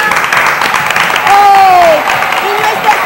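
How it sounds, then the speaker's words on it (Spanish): Studio audience applauding on a Spanish-language children's TV show, a steady wash of clapping and crowd noise for about three seconds with voices and whistles rising over it. "¡A ver ese aplauso que se escuche!"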